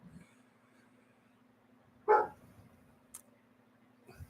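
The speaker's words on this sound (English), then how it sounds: "There goes David's dog barking" A single short dog bark rings out in a quiet room, followed by a faint click and soft background hum.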